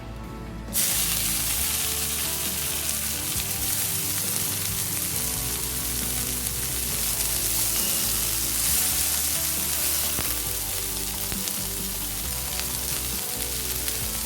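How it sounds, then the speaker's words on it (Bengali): Chopped data greens hitting a hot pan with ginger, starting abruptly as a loud, dense crackling sizzle that stays steady and close for the whole stretch. "এবার আমি সেই শাকগুলো কুচিয়ে রেখেছি, সেই শাকগুলো দিয়ে দেবো"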